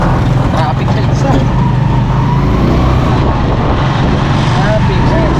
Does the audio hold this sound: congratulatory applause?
no